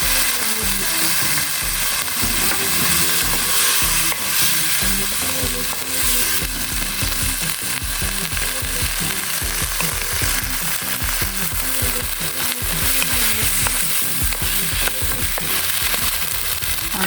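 Cauliflower, carrot and shrimp sizzle steadily in a hot pan with a cornstarch slurry, with continuous frying crackle and regular scraping stir strokes up close.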